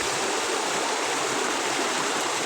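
Flood water rushes through a street, a steady, dense broadband roar that stays constant and close throughout, with no talking.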